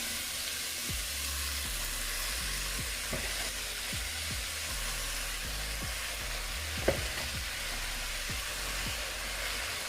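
Shredded cabbage fries in a pot with carrots and Scotch bonnet pepper for Jamaican vegan steamed cabbage, giving a steady, soft sizzle with occasional light stirring clicks and no talk.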